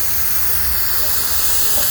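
Steady, loud hiss of steam venting from a live-steam G scale model locomotive fired by alcohol, a continuous broad rush with a low rumble beneath, heard alone without any talk.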